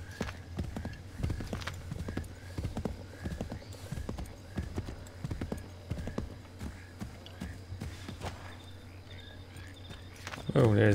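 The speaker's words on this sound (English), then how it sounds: "let's shove on a horse" Horse hooves clip-clop in a rapid, even gallop rhythm in the video game Assassin's Creed III Remastered, moderately close over ambient crickets, with a brief whinny and louder burst at the end.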